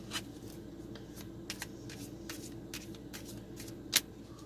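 Tarot cards are shuffled by hand in a quiet room, giving soft repeated riffling and slapping strokes at close range, with one sharper snap near the end.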